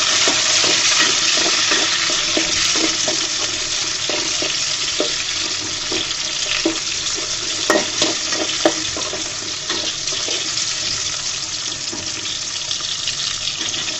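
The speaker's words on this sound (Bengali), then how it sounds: "টমেটোটা একদম তেলের মধ্যে আমি ভেজে নেব, গলাই ফেলবো, সসের মতো করে নেব" Tomatoes frying in oil, a loud, even wash of hissing sizzle with faint rhythmic scraping underneath, steady throughout and free of voices.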